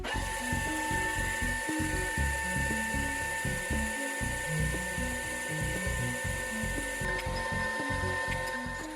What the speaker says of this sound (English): I'm going to drill holes to mount the bird feeder to the post,